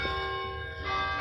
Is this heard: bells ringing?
yes